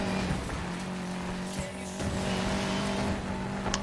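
A Subaru racing in Need for Speed Payback, its engine roaring steadily up close with repeated tire squeals and skids across the run, and no voices.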